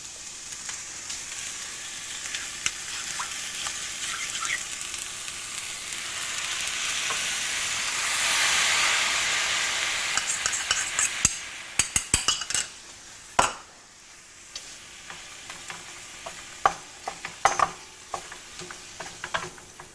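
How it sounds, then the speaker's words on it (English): Tomato and coconut milk sauce bubbles and sizzles steadily in a pan on the stove, a continuous close frying hiss broken by sharp clinks and scrapes of a utensil against the pan toward the end. "you can see that the sauce is boiling"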